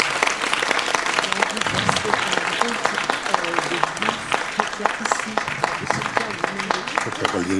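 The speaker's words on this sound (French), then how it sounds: "vous pouvez les applaudir, elles étaient formidables." Audience applause for the speakers at a forum of Israeli and Palestinian women for peace, a dense, steady wash of many hands clapping throughout, with some voices mixed in.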